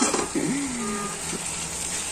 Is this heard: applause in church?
no